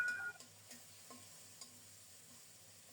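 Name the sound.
stirring and frying spice paste for bean curry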